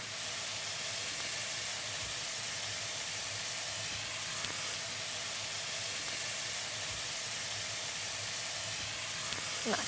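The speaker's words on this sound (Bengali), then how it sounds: "এখানে আদা রসুনটা সুন্দর করে কষিয়ে নিতে হবে" Ginger-garlic paste with turmeric fries in a pan for a Bengali dish, a steady close sizzle and hiss running unbroken throughout.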